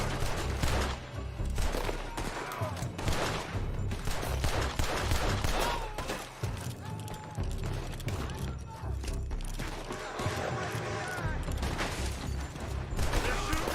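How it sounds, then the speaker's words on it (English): Gunfire in the video game Red Dead Redemption 2: a dense, continuous fusillade of shots and bursts runs throughout, mixed with in-game voices and background music. "They're shooting from that building."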